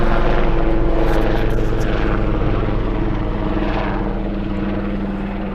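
A helicopter flies over a wooded coppice, its rotor and engine roar steady and loud, slowly fading as it moves away, with no talk.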